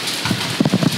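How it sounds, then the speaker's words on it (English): Hailstones patter and tick in a short burst of scattered impacts outdoors near a Ford van under repair. "I think it's hailing."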